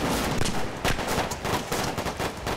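Gunfire striking the player in Arma 3 during a night mission, heard as a steady, dense rattle of shots and impacts, close and loud, with no one speaking.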